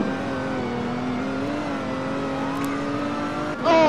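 Video game cars race past, with sustained engine whines rising and falling in pitch and a sharp burst of revving near the end; no voices are heard.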